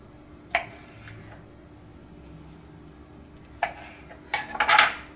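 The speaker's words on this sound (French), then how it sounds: "On va couper un petit peu la queue des figues et on va couper toutes ces figues" Knife cutting figs on a board for a goat cheese appetizer, a few sharp clicking taps and scraping cuts spaced apart, close and fairly quiet, no talking.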